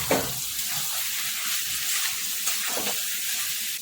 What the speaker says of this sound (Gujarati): હવે મિક્સ કરી લઈશું